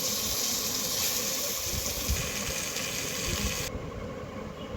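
Small lote fish fry in a little oil, a dense, loud, continuous hiss that drops suddenly in level and brightness about three-quarters of the way through, with no voices.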